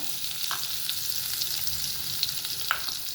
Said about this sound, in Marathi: आपण एक चमचा तूप टाकलं आहे आणि थोडंसं बटर टाकूया